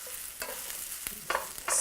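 Brussels sprouts browning in a hot pan, a soft close sizzle with a few quick scrapes and clatters from stirring over under two seconds.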